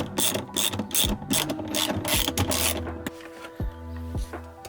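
A hand ratchet loosening 10 mm bolts on the center console of a BMW E92 M3 track car: rapid, close, loud clicking bursts in quick runs, then slower spaced clicks with brief pauses.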